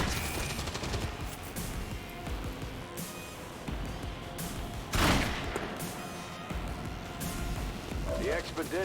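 Gunfire from XCOM 2 as a soldier and a turret hold off the Lost, scattered shots and bursts with one heavier blast midway, mixed under other game sounds.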